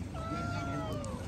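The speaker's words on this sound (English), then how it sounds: "Some very hungry kitties," Hungry stray cats meow near the trails of Petra, a couple of drawn-out rising and falling cries heard faintly beneath murmuring voices and outdoor background noise.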